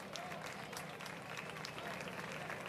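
An audience at an award ceremony in Jerez applauds a recipient, a faint, steady patter of clapping throughout the short stretch.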